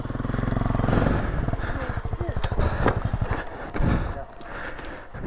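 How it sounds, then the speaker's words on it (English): A motorcycle engine is held at steady revs while a rider works it over slippery ground, its throbbing drone loud and close under urgent spoken coaching. "Keep the revs on. Keep your revs on."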